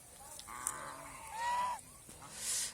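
Domestic geese honk in a quiet yard, a few drawn-out nasal calls at moderate distance with short pauses between them.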